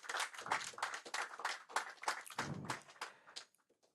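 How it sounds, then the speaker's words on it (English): An audience at a Nigerian business economic outlook event applauds, a dense, even patter of many hands clapping together, moderately close, then tapering off quickly at the end. "May we applaud President Chairman of Council again"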